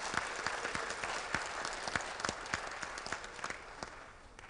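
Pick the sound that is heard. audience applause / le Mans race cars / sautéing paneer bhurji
audience applause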